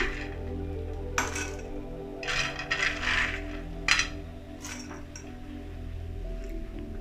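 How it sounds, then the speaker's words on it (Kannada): Shelled peanuts tipped into a pan or jar make a few light rattling clinks and brief bursts of small hard pieces landing, fairly close, with no talk over them. "ಇವಾಗ ಶೇಂಗಾನೂ ಹಾಕ್ತಾಯಿದ್ದೀನಿ ಇದಕ್ಕೆ."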